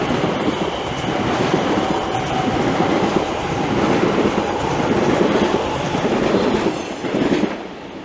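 A TfL Rail class 345 electric train passing through Bethnal Green, a loud sustained rumble with clickety-clack wheel noise and faint squeals, fading slightly at the end with no talking.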